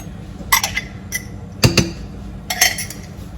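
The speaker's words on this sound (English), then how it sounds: "I'm just going to whisk that in to mix it up" Yogurt being whisked into warm milk at 38 degrees, with a whisk clinking against the bowl in three short clusters of bright metallic taps over a quiet room.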